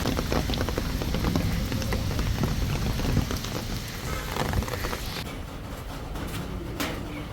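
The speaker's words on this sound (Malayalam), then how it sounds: "നല്ല ചാറ്റൽ മഴയുണ്ട്" Steady light rain patters on surfaces, a dense, continuous hiss of drops close by, easing a little toward the end.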